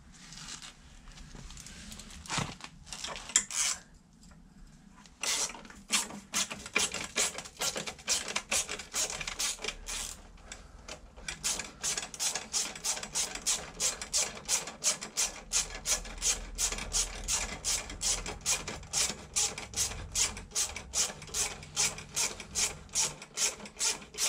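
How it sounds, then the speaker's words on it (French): A hand ratchet loosens the screw on an exhaust clamp of a Piaggio MP3 500 scooter, giving rapid, close, regular clicking that grows steadier and continuous after a few hesitant strokes. "on va défaire la vis qui maintient le collier de serrage."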